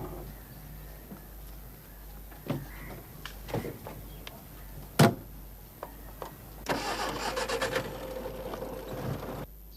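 An older car's engine starts quietly, then the vehicle pulls away in a scene from an Indian detective drama. Scattered clicks and knocks lead into a rougher, louder engine rumble toward the end.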